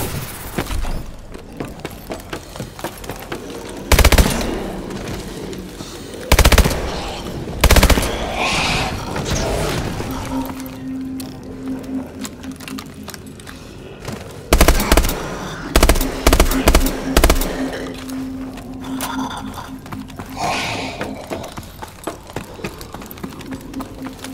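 Gunfire in Call of Duty Exo Zombies, with several loud, punchy bursts and single heavy shots scattered among quieter rattling and background game noise, and no talking.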